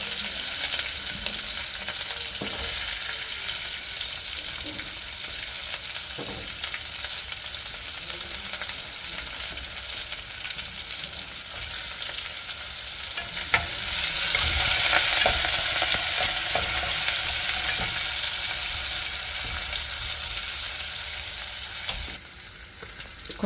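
Onions fry in a pan for beetroot rasam with a loud, dense, continuous sizzle that swells brighter midway, heard up close without any talking.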